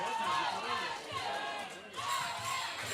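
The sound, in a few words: wrestling crowd chanting "OMG"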